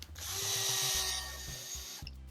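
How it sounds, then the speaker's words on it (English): A cordless power drill drives screws while an RC car, a Tekno EB48 2.1 buggy, is assembled: a close, high whirring burst that slows and stops, then a brief second spin. "Go ahead and use my drill, I guess."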